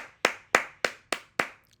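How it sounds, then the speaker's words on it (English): Five sharp hand claps from a small group, spaced evenly about a quarter second apart, close and crisp with quick decay and no talking, offered as applause for Almighty Suspect. "So we're gonna take a second to clap it up for Almighty Suspect."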